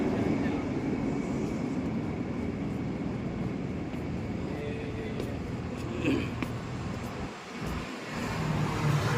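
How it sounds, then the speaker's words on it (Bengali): A tram rolls along a street in Rome, a steady broad rumble that holds close and loud throughout, with a brief dip in the noise near the end. "আমার সামনে ট্রাম যাচ্ছে"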